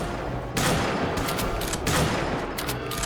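Bursts of rapid rifle gunfire crackle in the video game Return to Castle Wolfenstein over a constant background rumble, with clusters of sharp shots at irregular intervals.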